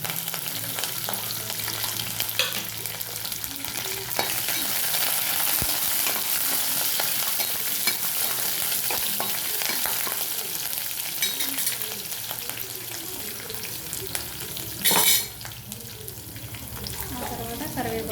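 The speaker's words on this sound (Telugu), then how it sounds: "పచ్చి వాసన, కరివేపాకులో నుంచి పచ్చి వాసన పోయిన తర్వాత బాగా వేయించుకోవాలి." Green chillies, dry chillies, curry leaves and coriander sizzle steadily in hot oil for a tempering, with continuous frying hiss, occasional stirring scrapes and one brief louder burst near the end, no voices.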